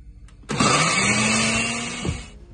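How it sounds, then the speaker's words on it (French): A Moulinex blender grinds garlic, celery, leek, chives, ginger and nutmeg into a spice paste, starting abruptly with a loud steady whir that holds for about two seconds, then cuts off. "tous mes condiments dans le moulinex. Je vais le mixer."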